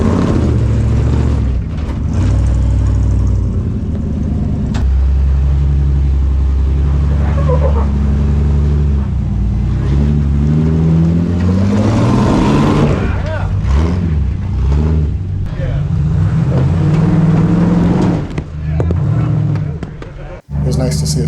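A Jeep ZJ growls over trail rocks on an off-road ride, its engine note rising and falling with throttle through a steady low drone. Voices talk over it throughout.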